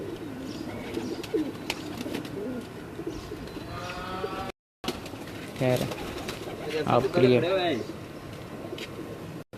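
Pigeons coo softly at a loft among steady background noise, and a voice talks briefly over them partway through.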